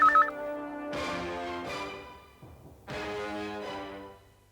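A telephone rings in a home setting, sounding in two bursts of bright, tonal electronic ringing, each lasting about a second or more with a short gap between, close and moderately loud with no talking.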